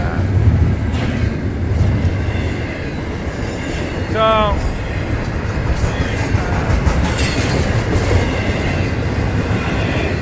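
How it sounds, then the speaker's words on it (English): A Florida East Coast Railway train rolls past close by, a loud continuous rumble of wheels on rail with rhythmic clatter and a brief squeal of wheels midway. "When I turn around when the train goes by"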